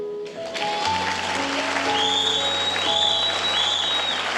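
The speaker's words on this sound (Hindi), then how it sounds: "तालियां।" An audience at a Hindi talk breaks into applause, a steady patter of hands joined by a low steady hum and faint sustained tones.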